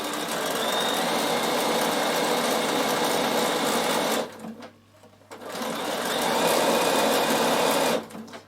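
A sewing machine stitches a fabric travel pouch in a loud, steady whirring run, stops for about a second, then whirs on again before halting.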